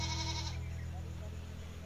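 Goats bleat among livestock resting together on a farm in the morning sun alongside a calf and a dog, a short close bleat at the start fading into a steady low background hum.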